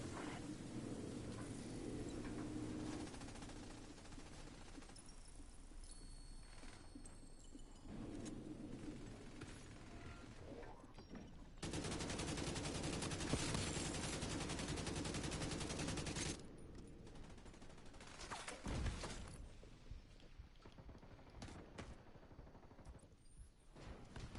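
Distant gunfire in The Division 2, with steady fusillades and machine-gun bursts rattling in the middle distance, one louder sustained volley near the middle, then scattered shots.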